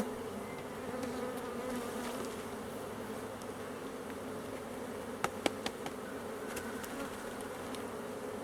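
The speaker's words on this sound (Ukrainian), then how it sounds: "Струшуємо бджіл." Dense, steady buzzing of many honey bees as they are shaken off a hive frame during queen replacement, a continuous drone with a few sharp knocks near the end and no talk.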